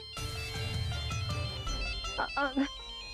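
A phone ringtone for an incoming call plays in a Hindi TV serial scene, a bright repeating melodic tone that runs continuously, fairly loud and alone, ending with a few rising chirps.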